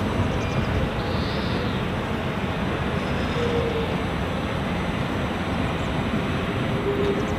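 Aircraft landing on runway 27 at London City Airport: a steady, broad engine roar heard from a distance, unchanging and continuous, with no talking.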